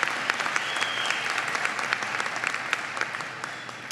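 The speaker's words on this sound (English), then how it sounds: "give all of our teachers a round of applause" Sustained audience applause for teachers at a university graduate commencement ceremony, a dense steady wash of many hands clapping throughout, moderately loud with no talk over it.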